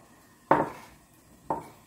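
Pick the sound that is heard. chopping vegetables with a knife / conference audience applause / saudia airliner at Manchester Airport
chopping vegetables with a knife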